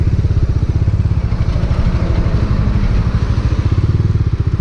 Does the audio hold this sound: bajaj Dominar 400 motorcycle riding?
yes